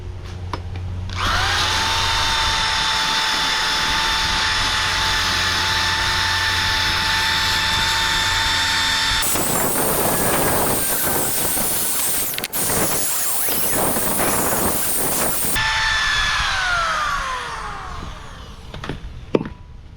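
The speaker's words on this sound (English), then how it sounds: "I'm getting ready to just clean them up a little bit with the drill" A power drill whines steadily at high speed, then switches to a harsh gritty grinding as it resurfaces glazed Mitsubishi brake rotors before spinning down, loud and close.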